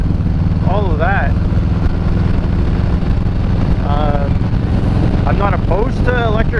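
A Harley-Davidson motorcycle rumbles steadily and loudly while riding, its deep engine drone constant throughout, with wind noise and a voice talking over it.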